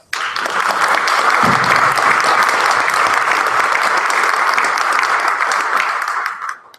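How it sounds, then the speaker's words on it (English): A loud, full round of applause from an audience at a streamed book discussion, dense clapping that begins abruptly, holds steady for several seconds, then tapers off. "can we get a round of applause?"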